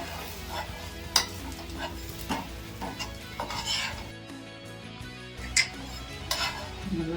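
Butter dosa frying on a hot pan gives a steady sizzle, with occasional scraping and utensil clinks against the pan. It is close-up and moderately loud, with no voices.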